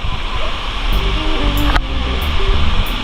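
The Huai Mae Khamin waterfall in Kanchanaburi gives a loud, continuous rushing roar close by, with voices faintly talking beneath the steady water noise.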